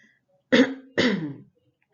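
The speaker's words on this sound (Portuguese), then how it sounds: "tô ainda assim, tossindo um pouco" A woman with a cold gives two quick, harsh coughing, throat-clearing bursts, close and loud, separated by a short pause and framed by silence.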